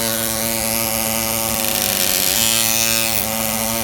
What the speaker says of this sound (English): an air chisel.